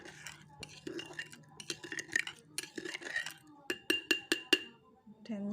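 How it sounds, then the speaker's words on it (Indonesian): A spoon stirs sand inside a glass, giving a run of light scraping swishes followed by several crisp, evenly spaced clinks of metal against glass, close and fairly quiet, with a low steady hum underneath. "yang keempat kita aduk pasir-pasirnya"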